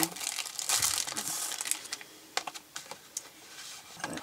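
Close-up crinkling and crackling of stiff plastic being handled and pulled open, with a burst of rustling followed by scattered sharp snaps and clicks.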